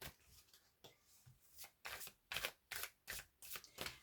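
A large deck of cards is shuffled up close at a tarot reading, with about eight quick riffling bursts separated by brief pauses and growing louder toward the end, no talk.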